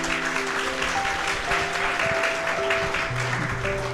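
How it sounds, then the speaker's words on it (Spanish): A church congregation applauds at a wedding ceremony, steady sustained clapping filling the room at moderate loudness, with faint tonal background sounds running under it. "Un fuerte aplauso, iglesia."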